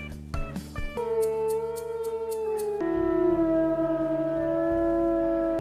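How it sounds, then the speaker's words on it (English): Wolves howling in the video game WolfQuest, long sustained overlapping howls that rise and hold steady, with a few short yips at the start, loud and close. "she hears the wolves howling"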